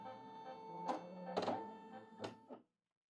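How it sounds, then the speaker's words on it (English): A Brother sewing and embroidery machine resets its needle at power-on, making a quiet electric whir with a few soft mechanical clunks before stopping abruptly. "when you turn on your machine, it sets your needle so it's in the correct location that it's supposed to be"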